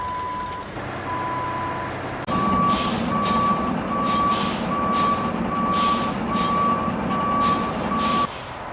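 A truck's loud, regular reversing beeps repeat over a steady engine hum as it drives on road slabs laid over sand, close by and continuous for several seconds.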